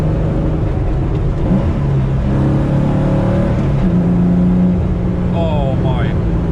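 A 1986 Porsche 911 widebody with an Elmerhaus engine on a test drive, its engine droning loud and steady from inside the cabin with rising and falling revs, under a person talking.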